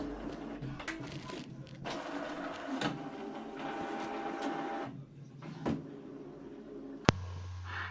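An inkjet printer runs continuously with whirring motor and roller clicks as it tries to feed a thin poly pocket without backing paper, ending in a sharp mechanical clunk near the end.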